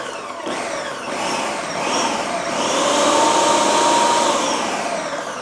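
A food processor pulses keto brownie batter in loud, repeated motor bursts that rise and whir with a grinding, churning roar, starting and stopping a few times before running longer, with no one talking.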